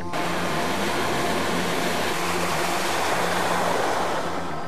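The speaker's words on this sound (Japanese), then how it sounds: "雨水が川のように流れ、" Rainwater running like a river across a flooded stretch of National Route 157 in Hakusan during record torrential rain, a steady loud rushing wash that continues without pause.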